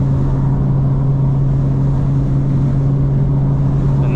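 A 2025 BMW M4 CS driving in all-wheel drive, heard from inside the cabin as a steady loud low engine drone and road rumble at constant speed, with no revving.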